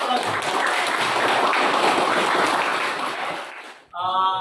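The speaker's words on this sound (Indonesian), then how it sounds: "Kita beri tepuk tangan dulu untuk semua" A school class applauds together at the close of a lesson, a burst of fairly loud, dense clapping lasting several seconds before it stops and a voice begins speaking.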